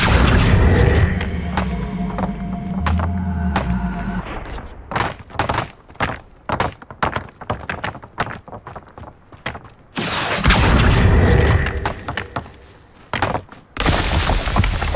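Confringo explosion spells in Hogwarts Legacy burst as heavy booms amid a run of sharp thuds and impacts, with loud dense blasts at the start and middle and choppy hits between them.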